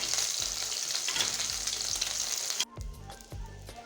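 Fish frying in hot oil in a pan crackles with a loud, dense sizzle that cuts off abruptly near the end, leaving quieter clattering and spattering as the pieces are lifted out.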